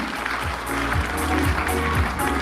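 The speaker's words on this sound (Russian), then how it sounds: "И эти аплодисменты в твою честь." Audience applause fills a Christmas concert hall, a steady dense clatter of many hands that swells slightly and sustains throughout.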